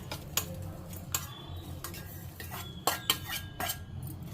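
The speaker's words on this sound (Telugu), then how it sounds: "సో ఇదండి బెల్లం వేసుకుంటున్నాను" Jaggery for bellam appalu going into a pan: a series of sharp metallic clinks and scraping taps against the cookware, spaced irregularly over a few seconds in a quiet kitchen.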